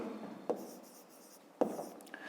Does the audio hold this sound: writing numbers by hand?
yes